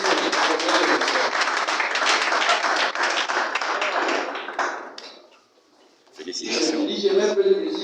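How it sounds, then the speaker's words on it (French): Applause from an audience at an official launch ceremony for a network of teachers in Gabon: dense clapping for several seconds that fades out, a short near-silent gap, then voices and noise return. "sous vos acclamations, s'il vous plaît"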